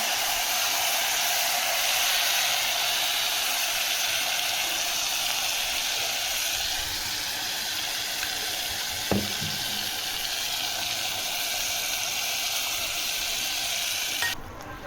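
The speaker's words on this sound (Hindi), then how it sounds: "मसाला हमारा भुन रहा है।" Spice paste of ginger, garlic, ground onion, turmeric, chilli, coriander and fenugreek frying in hot oil, giving a steady loud sizzle that runs unbroken, with one brief clink of a utensil midway.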